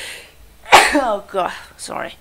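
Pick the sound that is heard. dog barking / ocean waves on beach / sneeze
sneeze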